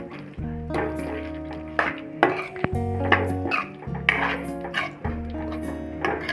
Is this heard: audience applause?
no